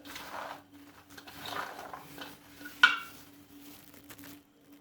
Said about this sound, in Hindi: इन तमाम चीज़ों को अच्छा सा मिक्स करते हैं